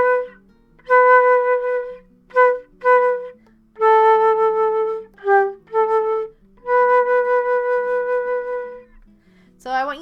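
A flute plays a dotted quarter note rhythm exercise, clear sustained tones alternating with short notes in a counted pattern, close and solo.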